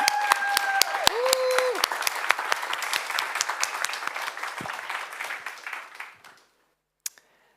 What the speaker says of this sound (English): Give a big round of applause for Roaa.